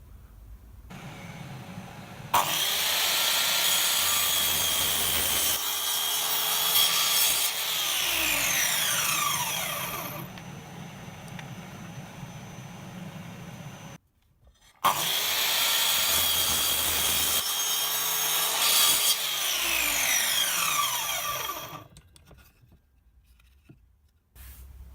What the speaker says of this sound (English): I've got the piece clamped with the miter saw clamp, and I'm just making sure that the piece is perfectly vertical